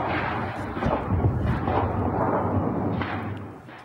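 Dull distant booms and cracks of heavy gunfire around the presidential palace and army headquarters in Sudan roll over a rumbling background, several bursts merging into a continuous heavy barrage.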